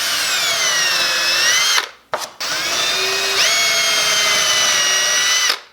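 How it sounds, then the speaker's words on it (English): A power drill bores a screw hole for a flush-mount hinge on a jon boat being restored, whining loudly at high speed in two bursts separated by a brief pause, the motor pitch shifting slightly as the bit bites. "we'll take a drill that's just a little bit smaller than the screw we're going to put in there"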